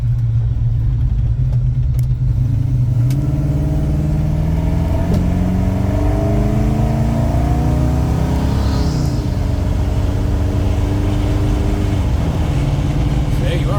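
A 1970 Chevrolet C10 truck drives with a loud, steady engine rumble heard from inside the cab, the pitch rising and falling through gear changes, with someone talking over it.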